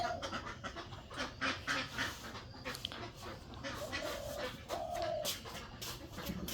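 Hungry domestic ducks quack and chatter in a faint, scattered chorus nearby, a little muffled, with no one speaking.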